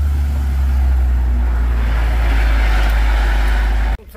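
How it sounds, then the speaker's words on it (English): A plunge dipping truck for sheep arrives on a farm, its heavy engine rumbling loud and steady close by for several seconds before cutting off abruptly near the end. "Truck is here now."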